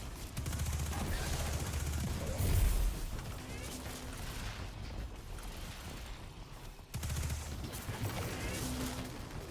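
Rapid gunfire from weapons shooting targets in Destiny 2, a continuous clatter of shots with a heavier burst near the start and another surge toward the end, fairly distant and muted.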